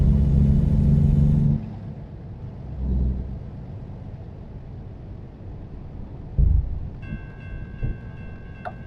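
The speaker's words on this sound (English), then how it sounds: "And the train is coming now." Train passing in a trucking video game, a loud rumbling roar at first that cuts out and gives way to a quieter steady drone with a few thumps and a brief horn-like tone near the end, no talking.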